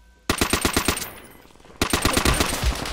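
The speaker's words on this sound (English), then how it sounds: "Dude, I'm literally shooting at him." Rapid automatic gunfire in the Call of Duty: World at War video game, two loud close bursts of evenly spaced shots separated by a short pause, with no talking.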